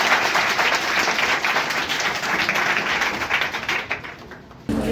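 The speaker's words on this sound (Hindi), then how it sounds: "एक बार जोरदार तालियां सबके लिए।" Loud, dense applause from a crowd celebrating students' exam results, sustained and crackling throughout, then cutting off abruptly near the end.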